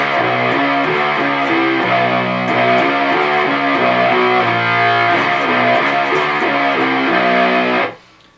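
Heavily distorted electric guitar chugs through the bridge rhythm of a song, open notes and power chords in a dense, loud, steady pattern that cuts off abruptly near the end, with no voices.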